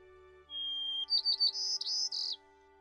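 A single white-crowned sparrow gives a short song: a clear whistled note followed by a quick series of buzzy, warbled notes. It sounds fairly close against a quiet background with a low hum.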